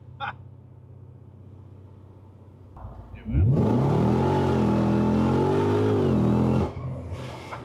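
An SRT car with a HEMI V8 accelerates hard in low gear, its engine rising from idle into a loud, sustained roar for several seconds before backing off, with talking before and after.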